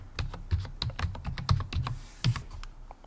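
A password is typed on a computer keyboard in quick, uneven bursts of close, crisp key clicks with a short pause near the end and no talking.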